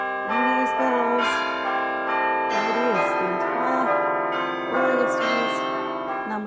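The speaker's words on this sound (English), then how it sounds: "Ring those bells." Bells ring in a tuneful sequence of bright, sustained tones, fairly close and moderately loud, with a voice-like melodic line woven through them.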